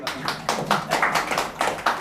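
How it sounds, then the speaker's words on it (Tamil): An audience at a Tamil spiritual talk claps in a scattered, uneven patter of overlapping hand claps, moderately loud and close, filling the short moment with no clear speech. "இதுக்கு ஏதாவது ஒரு கைதட்டுவீல?"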